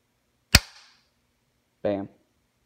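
A Ruger American rifle is dry-fired, giving one sharp, close trigger click, then a second short, duller mechanical sound about a second later, in a quiet room with no talk.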